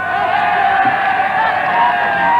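A dense English crowd at a 1979 England v Wales British baseball match cheers and chants steadily, a loud, continuous wall of massed voices with no pauses.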